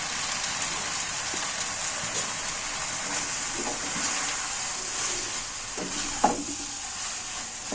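Boiled noodles being stirred and tossed in a frying pan for chicken vegetable Maggi noodles, a steady sizzling hiss with soft scraping and a few clinks of the utensil against the pan, close and continuous.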